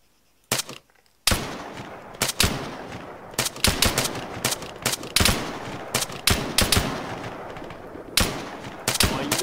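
Machine gun fire in the military shooter game Arma III crackles in short irregular bursts and single loud shots, dense and close, with echoing reports filling the gaps.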